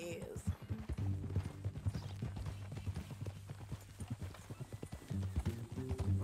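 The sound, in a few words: horse hooves and whinny, Red Dead Redemption 2 video game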